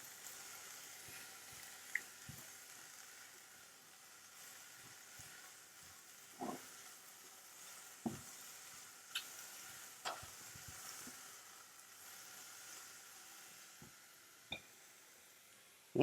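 Vegetables for Manchow soup sauté in a pan with a faint, even sizzle, broken by scattered soft taps and spatula clicks every few seconds, quiet and close, without any talking.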